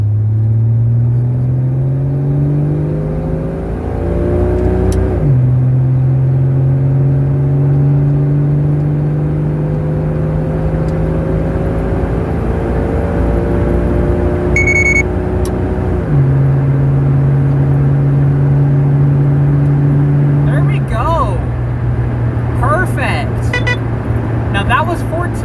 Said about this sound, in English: if I try and rev it, it'll just bog